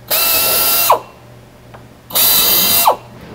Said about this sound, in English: And then drill the other two holes.